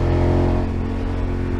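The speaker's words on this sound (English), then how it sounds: "That is the best place I've ever done a wheelie!" A motorcycle engine revving hard during a wheelie on a tour ride, a loud, close, throaty roar that holds steady and eases slightly.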